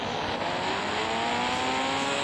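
A motorbike engine in a 3D bike video game drones steadily and loudly throughout, a continuous synthetic motor tone with a slight rising whine and no pauses.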